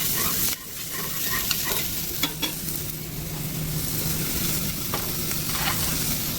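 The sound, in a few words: sauteing chorizo in a pan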